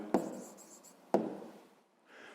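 A pen writes out the answer to a fifth-grade maths problem on paper: two sharp strokes about a second apart, each trailing into a soft scratch, close and quiet with no talk.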